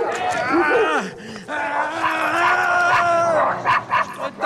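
A dog's loud, whining yips and moaning barks carry through a Soviet-era comedy scene, with drawn-out wavering cries in quick succession over the whole stretch and a few sharper yelps near the end.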